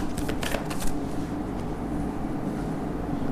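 Tarot cards are shuffled and drawn close by: a continuous papery riffling with a few sharper flicks early on, and no voices.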